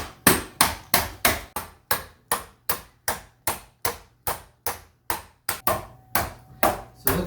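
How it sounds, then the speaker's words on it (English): Animal crackers crushed inside a bag with the back of a spoon, making about eighteen sharp, evenly spaced crunching thumps, close and loud, with no talking. "take the back of the spoon and you'll hold onto the bag and you'll slowly bash those up and get them into nice fine crumbs"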